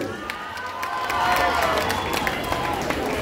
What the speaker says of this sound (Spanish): Aplausos para el número